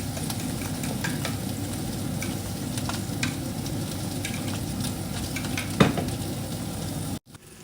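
Egg frying in a pan sizzles continuously at moderate loudness, with occasional light clicks and a brief scrape of a utensil, no talking.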